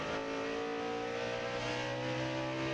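A NASCAR Craftsman Truck Series race truck engine drones at partial throttle with a steady, slightly wavering tone, continuous and moderately loud, with no talk.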